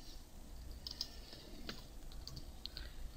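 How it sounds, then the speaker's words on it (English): Faint computer keyboard typing during CAD software work, a handful of scattered soft key clicks over a steady low background hum. "I'm going to type in actuator pin."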